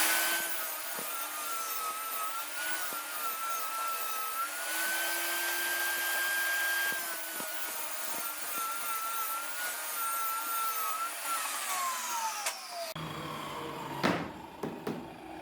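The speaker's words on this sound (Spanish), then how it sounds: "voy a utilizar este sobrante de melamina, el cual voy a cortar a 8 centímetros de ancho o de altura" A table saw cuts through a leftover melamine board, its motor holding a steady, loud whine for about thirteen seconds before the blade stops abruptly and a few scattered workshop knocks follow.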